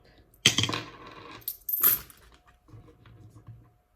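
Loose coins handled and poured out in a couple of bright metallic jingling bursts up close, followed by softer clinks and shuffling as the pile settles.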